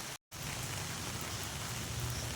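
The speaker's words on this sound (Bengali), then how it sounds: "বৃষ্টি হোক বৃষ্টিটা দেখো পুরো ভিজে গেলাম" Rain falls steadily over a village garden, a soft, even hiss of drops on surfaces, faint and distant, broken by a momentary dropout near the start.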